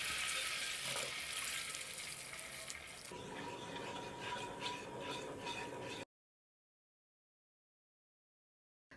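A spoon stirs a pot of milk soup with hotpot base, garlic and scallion, giving a close, wet swishing and sloshing for about six seconds, alone with no talk, then cutting to silence.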